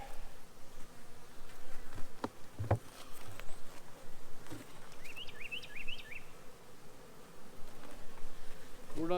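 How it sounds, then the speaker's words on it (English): Honey bees humming in an old hive box in a beekeeping yard, a constant close buzz with occasional louder passes near the listener and a few faint bird chirps in the background. "this old box has got a lot of bees in it for sure"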